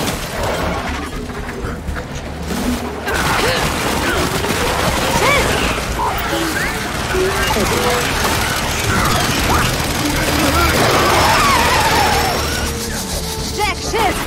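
Rapid bursts of gunfire and mechanical clatter from the video game Gears 5 fill the clip, with loud shots and explosions under excited shouting voices.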